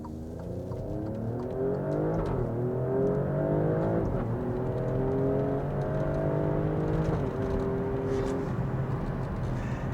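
An Alfa Romeo Stelvio Quadrifoglio, whose driver says it has 8 gears, accelerates hard along a long straight road, its engine rising steadily in pitch through the gears, with brief dips at each upshift, loud and continuous.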